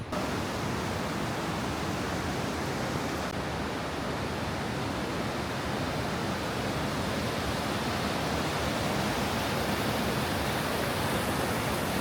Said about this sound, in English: You are stood at the top of the waterfall.